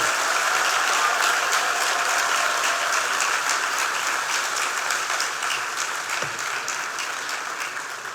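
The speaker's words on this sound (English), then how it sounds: "give a loud round of applause for everyone who has made this coming together possible" A loud round of applause rises from a large graduation audience at Cave Hill, a continuous roar of clapping that stays strong throughout and eases off only slightly toward the end.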